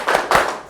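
A group of schoolchildren in a classroom does a rhythmic 'tepuk semangat' clap, two quick, loud, close claps with a short gap between them.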